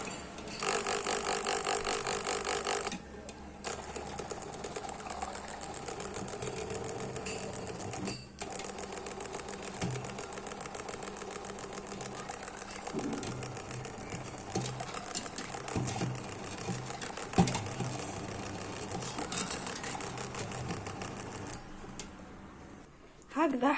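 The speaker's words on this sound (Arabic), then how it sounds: "ونبداو نخلطو. المكونات حتى تنسجم." Blender mixing eggless mayonnaise ingredients, a steady whirring motor drone with stops and restarts, running nearly throughout at moderate loudness.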